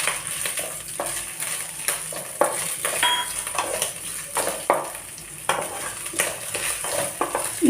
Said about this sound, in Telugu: ఇవి కొంచెం ఫ్రై చేసుకుందాం.